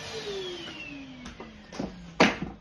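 A vacuum cleaner hoovering a car interior, its motor whine sliding steadily downward as it runs down, with a few sharp knocks and bumps toward the end, close and fairly quiet.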